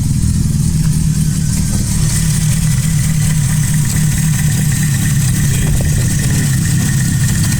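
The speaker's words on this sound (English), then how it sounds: "You can hear the 276 cam, right?" Opel Kadett engine idling with an aftermarket 276 camshaft, a loud, steady, lumpy rumble heard close and continuous with no talking.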